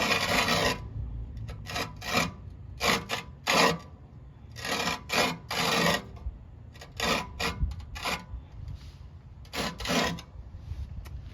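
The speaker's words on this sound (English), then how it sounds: "It's grinding on the whole blade." Rhythmic metallic grinding and rasping as a reel mower blade is backlapped, in repeated bursts about half a second to a second long over a steady low motor hum, close and fairly loud.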